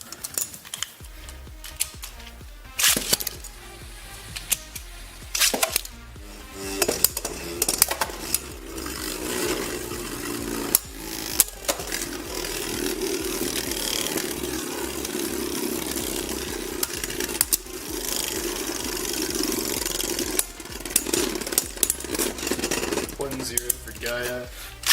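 Beyblades Gigant Gaia Gravity Unite and Victory Valkyrie Extreme Dash spin and clash in a stadium, giving a continuous whirring rattle broken by sharp impact clicks and bursts throughout.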